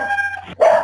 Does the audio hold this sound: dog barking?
yes